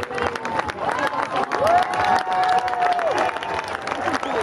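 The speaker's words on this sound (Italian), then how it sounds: "tutti con il naso all'insù per assistere ai volteggi in aria del tricolore atterrato fra gli applausi dei" Outdoor crowd applauding and cheering as parachutists, including one trailing an Italian tricolour, land near the Tiberius Bridge in Rimini during an Alpini gathering; steady clapping runs throughout with voices and a sustained tonal whistle-like sound mixed in.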